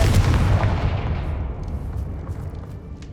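A Confringo fire spell explodes in Hogwarts Legacy, a loud booming blast at the start that rumbles and fades away over a few seconds, with no talking.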